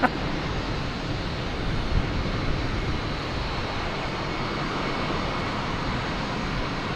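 A JetBlue airliner at Boston Logan Airport gives a steady, broad engine roar throughout, loud and sustained with little change, like a jet passing or taxiing nearby.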